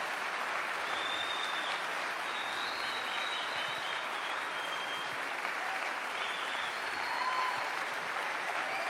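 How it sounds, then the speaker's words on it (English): An audience applauds to welcome a speaker to the stage at an evening preaching event, a dense, sustained wash of clapping from a large crowd that holds steady throughout. "Please, will you give him a really great round of applause."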